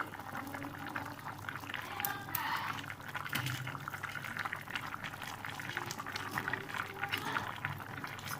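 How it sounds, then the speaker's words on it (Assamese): Lentil fritters (bora) simmer in a curry, giving faint, continuous bubbling and popping with soft liquid gurgles, quiet and close, while a voice talks over it at times. "এয়া আৰু অলপ সিজিবলৈ দিম বৰকেইটা দি পেলাই"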